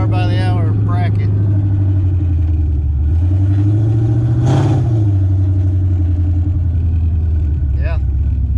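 Sleeper Foxbody Mustang with open headers and an AOD transmission revs hard, a loud continuous engine roar with one rising rev peak midway, close up, with voices talking over it.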